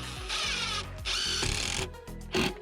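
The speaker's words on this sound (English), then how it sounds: "I'm attaching it using screws and pocket hole screws to get everything in place nicely." Power drill driving screws into 2x6 timber for a play structure build, several whirring bursts of rising motor pitch with short pauses between, loud and close.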